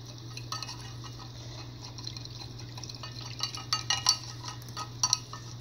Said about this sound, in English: putting the pan on the flame here